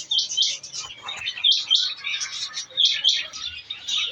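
Lovebirds in a Quetta bird shop, including white, personata, yellow-chested and Fischer's birds, chirp and tweet continuously in dense overlapping high calls, fairly close and loud throughout.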